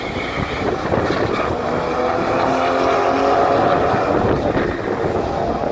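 Modified MK7 VW Golf GTI accelerates hard down a quarter-mile drag strip, its engine a loud sustained roar that rises and then holds, heard from a distance with a broad whooshing wash.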